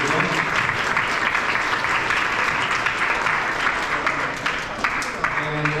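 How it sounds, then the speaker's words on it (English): An audience at a student political debate gives a sustained round of applause, steady, dense clapping filling the room for several seconds. "let's also give Arthur and the Summit for Student Political Engagement a round of applause"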